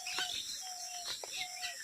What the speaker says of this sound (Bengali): এখানে পাখিগুলা অনেক চলে এসছে